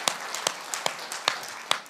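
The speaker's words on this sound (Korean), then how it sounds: "하나님께 박수의 영광" A church congregation claps in a brisk, regular rhythm, distinct hand claps about every half second over a soft roomy background.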